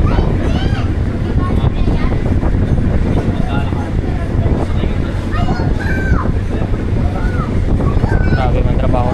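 A ship maneuvering on open water gives a dense, continuous rumble of engine and churning water with heavy wind buffeting the microphone, while people talk loudly over it throughout.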